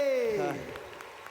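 Concert audience applauding at a Thai celebration concert, a moderate wash of clapping that opens under a loud, falling shout from a man and continues steadily for the rest of the moment.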